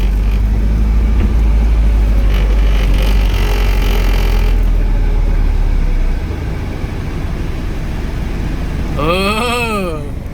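A drift car rolls up onto a weighing scale, its engine holding a deep, loud idle rumble that drops away after several seconds, leaving a quieter background with brief voices.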